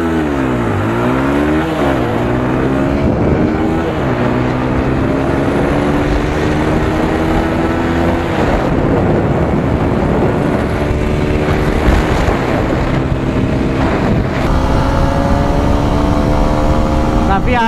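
A TVS Apache RTR 160 4V and a Hero Xtreme 160R Stealth Edition run a top-end race, their engines droning loud and steady at high revs with rising and falling gear tones throughout.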